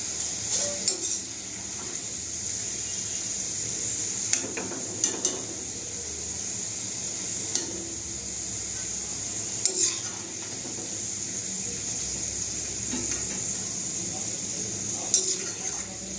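Onions frying in a pan for homemade chicken biryani, with a steady bright sizzle throughout and occasional clinks and scrapes of a spatula stirring against the pan.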